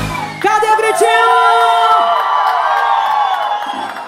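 A live concert crowd at a show in 2024 shouts, whoops and cheers. High rising yells ride over a loud, continuous roar that lasts about four seconds.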